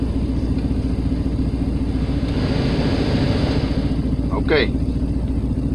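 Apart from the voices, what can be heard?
Chevrolet Silverado engine as AC compressor kicks in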